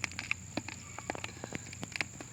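Black soldier fly larvae dropping through a compost bin make faint, scattered light pattering ticks, irregular like rain on a surface, with quiet gaps between the taps.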